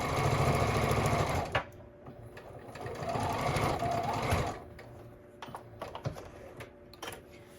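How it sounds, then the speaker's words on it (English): Domestic sewing machine stitching a quilt block, a steady loud mechanical whir running for a few seconds, pausing, then resuming before trailing into lighter clicks and small handling noises. "because I'm sewing on this side"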